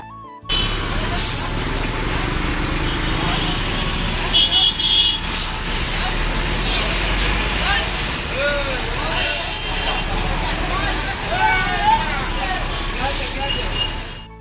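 Large vehicles crowd a narrow street, giving a dense traffic rumble with engine drone and occasional horn toots. Someone talks nearby over the noise.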